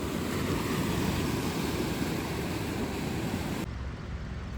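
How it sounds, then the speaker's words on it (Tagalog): Sea waves washing in along a roadside by the shore in a desert area, a dense continuous rush of surf mixed with wind, loud and near, cutting out abruptly near the end. "ewan ko kung naririnig nyo yung lagaslas ng tubig ng dagat"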